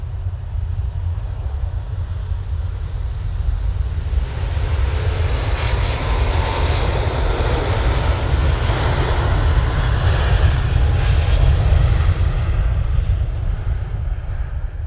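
A Virgin Atlantic Airbus A350 departs for Orlando at Manchester Airport, its jet engines a loud, continuous roar with deep rumble that swells and holds steady throughout.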